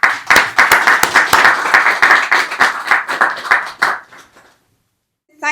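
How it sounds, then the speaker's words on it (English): Audience applause at a conference launch in the House of Lords, loud and close, a crowd of hands clapping steadily for about four seconds before fading to silence. "I would like to have a big round of applause for her"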